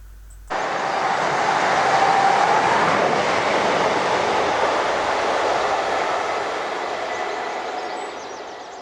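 The 0707 Glasgow to Carlisle passenger train passes with a loud, sustained roar of wheels on rails that starts abruptly, holds steady for several seconds, then slowly begins to fade, heard alone without voices.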